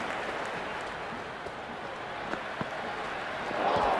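A cricket ground crowd in the Cricket 26 video game keeps up a steady, moderately loud murmur with scattered applause. Claps and cheers swell slightly toward the end.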